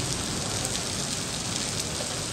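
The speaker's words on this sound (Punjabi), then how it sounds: "ਬਾਰਿਸ਼ ਸਪੀਡਾਂ ਪਕੜ ਗਈ ਏ" Heavy rain pouring down in a steady, dense hiss of drops on surfaces, loud and continuous with no voices over it.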